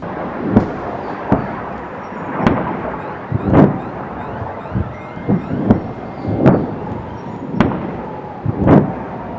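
Hezbollah missile attack over the Tel Aviv suburbs: a series of about a dozen booming explosions at irregular intervals, heavy and rumbling with distant echoes, some louder and nearer than others, with no talking.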